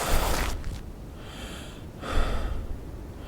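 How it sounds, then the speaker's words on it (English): A character in the Rancher video game breathes heavily, with two loud, close, rasping breaths separated by a quieter pause. "What's he heavy breathing for?"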